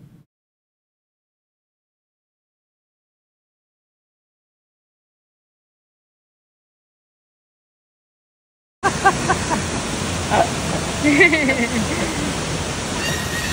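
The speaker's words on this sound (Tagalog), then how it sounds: "Ang ganda nga ng waterfalls na pinuntahan nila, may ganito palang lugar malapit sa Siargao." A waterfall near Siargao gives a steady, dense rush of falling water that begins abruptly after a long stretch of silence and continues loud and close to the end.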